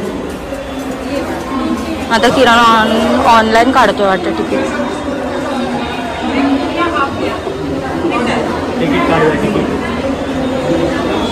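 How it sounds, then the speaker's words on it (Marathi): A crowded railway station on a Sunday fills the air with dense, close chatter and a babble of many voices. Someone speaks loudly over the hubbub throughout. "संडे तरी गर्दी बघा किती आहे."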